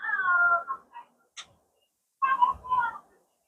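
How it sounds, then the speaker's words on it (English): A cat gives an odd, drawn-out meowing call with harmonic wavering, then falls silent after a brief click before two more strained, warbling cries close by. "Keep listening to that cat."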